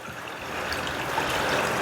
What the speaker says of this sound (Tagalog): lagyan natin ng sangkaterbang tubig